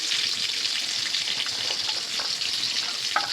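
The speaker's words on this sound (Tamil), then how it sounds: "இந்த வெங்காயத்துக்கு கூடவே 3 காஞ்ச மிளகா போட்டு நல்லா வதக்கணும்." Sliced onions with three dried red chillies and curry leaves sizzle steadily in a hot pan for a village-style vaththa kuzhambu, a constant close frying hiss with faint stirring clicks.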